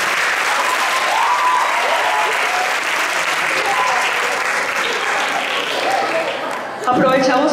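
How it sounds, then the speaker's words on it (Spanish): A large audience applauds at the opening of a youth arts festival, loud sustained clapping filling several seconds before a voice cuts in near the end. "Aplausos para todos los aquí presentes"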